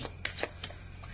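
Tarot cards are shuffled by hand in a few quick, soft riffling bursts, close and fairly quiet, with no talking.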